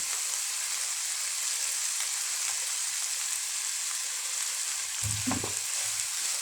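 Chicken, mixed vegetables and cabbage sautéing in a hot pan, giving a continuous even sizzle with a brief clatter of stirring near the end.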